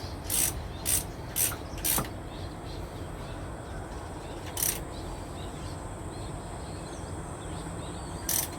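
A socket ratchet being turned on the bolt of a vehicle's idler pulley: a few short, crisp clicking bursts spaced unevenly, nearby, over a steady low background hum.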